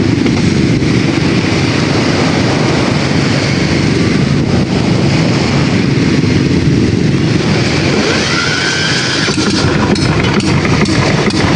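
A loud boat engine runs steadily and close by, a continuous droning rumble with slight shifts in pitch.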